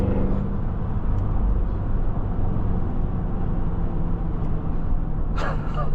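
Deep, steady engine and road roar from a 2026 Cadillac Escalade-V pulling hard under acceleration, heard from inside the cabin, continuous and loud with no talking over it.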